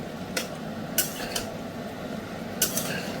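Eggplant being gently stirred into fish curry in a pot: a handful of brief, separate scraping clinks of a utensil against the metal, close by, with quiet hum between them.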